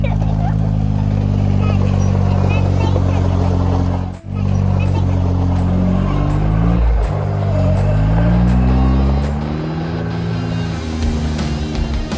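A Gator utility vehicle engine drones steadily and close, its pitch rising and falling as the gas is pushed and the machine accelerates, with a brief dip partway through.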